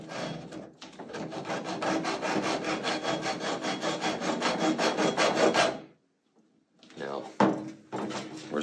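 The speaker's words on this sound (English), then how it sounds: "If you're a little uneasy with the saw, you can always drag it back." A hand saw cutting through Teck90 armoured XLPE outdoor and underground cable: a fast, even series of close rasping strokes, then a brief silence, then a few more scraping strokes, with a voice talking over it.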